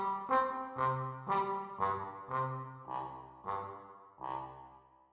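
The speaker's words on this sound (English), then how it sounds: "Tenor trombone sounds like this." Muted tenor trombone from the VSL Synchron sample library plays about nine separate notes in an even rhythm, each with a soft brassy attack and a short decay, heard alone and close.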